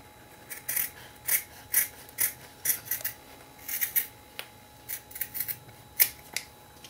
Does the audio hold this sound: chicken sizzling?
no